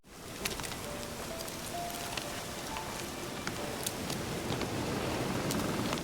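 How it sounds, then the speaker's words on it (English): Heavy rainfall in The Witcher 3 video game, set in the gloomy region of Velen, a dense constant hiss of rain with scattered light pattering ticks, steady and even with no voices. "when I hear that heavy rainfall combined with the unbelievable sound effects and music"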